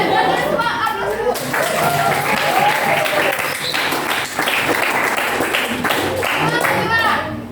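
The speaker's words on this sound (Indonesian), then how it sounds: "Kalian semua aplaus dulu." Students at a high school in Jember clap together in a dense, sustained round of applause lasting several seconds, close and lively, with scattered voices chattering underneath.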